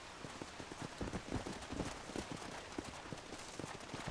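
Hooves of a horse in Red Dead Redemption clip-clop in a quick, uneven trot under a wash of rain-like noise, moderately close and fairly quiet, with no voices.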